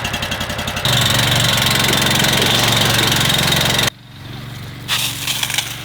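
A fire truck engine runs to power a fire hose, a loud, steady mechanical drone that holds for several seconds and then drops abruptly to a lower, rougher idle.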